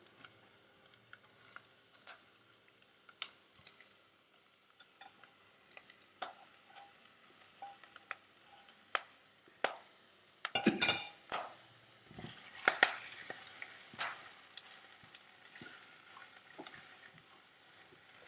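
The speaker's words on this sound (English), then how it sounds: "I'll saute the veggies for a while." Mixed vegetables sautéing in a pan for Manchow soup, with a quiet, steady sizzle and occasional sharp clinks and scrapes of a utensil against the pan, louder in bursts near the middle, no voices.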